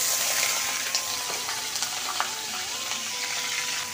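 Small-cut potatoes frying in hot oil in a home kitchen, a steady soft sizzle and crackle with a few brief pops and stirring scrapes, close and continuous, with no talking.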